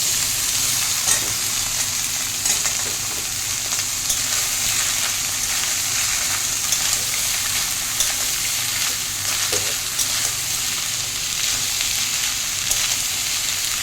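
Sliced banana stem fries steadily in hot oil in a pan, a dense continuous sizzle with faint stirring scrapes throughout, close and alone with no voices.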